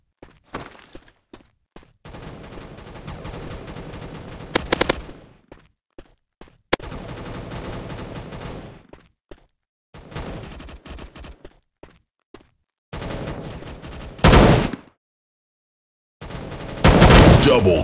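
Gunfire in the FPS shooter MaskGun rattles off in several loud, dense bursts, each lasting a second or more, with short silent gaps between them and sharp single cracks scattered throughout.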